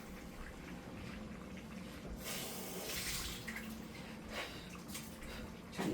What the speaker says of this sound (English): I'm going to add a can of water to this in just about a minute